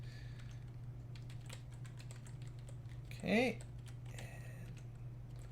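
Quick, irregular clatter of fingers typing on a computer keyboard while playing the classic computer game Curse of the Azure Bonds, heard close over a steady low hum, with a brief spoken word partway through.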